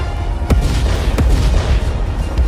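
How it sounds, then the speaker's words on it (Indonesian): Loud explosions boom in a fantasy battle narration, with sharp blasts cracking out at intervals over a deep, rumbling low background. "tiba-tiba suara ledakan terdengar dengan sangat keras"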